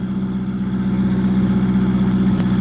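Ferrari 488 GTB engine running steadily at a loud, close idle with a rough, pulsing rumble, holding level without a sharp rev climb.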